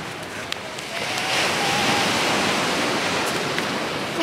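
Water flowing and rushing near a beach as a small stream runs across the sand, a steady broadband wash that swells slightly after the first second and stays close and continuous.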